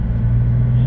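Several cars idling in neutral with engines left running, a steady low rumble with a constant drone and no revving, close and fairly loud.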